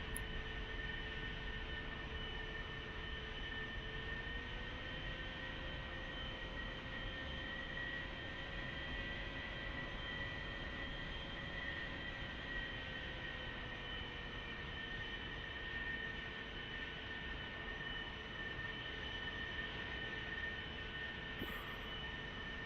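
A-4E jet taxiing in DCS World, a steady faint turbine whine and hum that holds evenly throughout with no voices.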